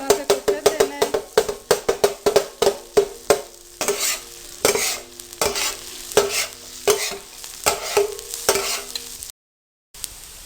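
Rapid, rhythmic scraping and tapping of a spoon stirring onions frying to light golden brown in a pan over a sizzling background, then a brief silence near the end.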